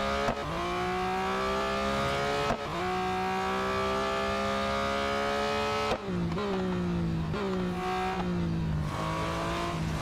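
A 2021 Porsche 911 GT3 engine in the racing game Real Racing 3 wails steadily at high revs, with sharp drops and climbs at gear changes and braking, loud and continuous with no talk.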